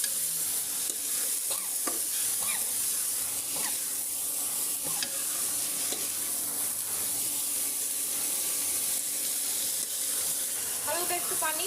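Dried ribbonfish frying with turmeric, chili and salt, a steady close sizzle with occasional scrape and tap of a stirring spoon in the pan.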